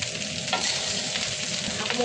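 Fried rice with buldak sauce being stirred in a hot pan, a steady close sizzle with scraping stir strokes throughout and no talking.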